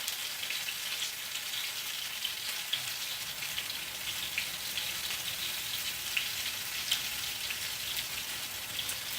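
Pieces of food brown in a frying pan, giving a steady, bright, crackling sizzle with scattered pops that runs without a break for the whole stretch and stays close and even in loudness, with no voices.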